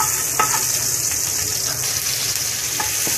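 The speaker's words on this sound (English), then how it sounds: "then we can saute the garlic, then the onion, and the tomatoes." Garlic sizzles and crackles steadily in a hot pan, with a few stirring scrapes and brief pops throughout, close and fairly loud with no talking.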